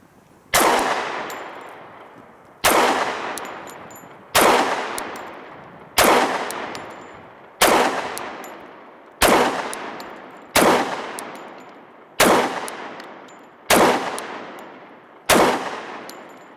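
Pistol shots from a SIG Sauer P227 SAS and a Glock 30 in .45, ten loud single shots fired at a steady pace about every 1.5 seconds, each followed by a ringing decay.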